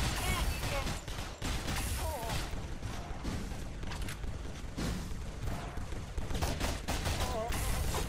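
Gunz 2 video game combat with dense, rapid bursts of gunfire and crashing impacts, loud and continuous, mixed with game effects and voices.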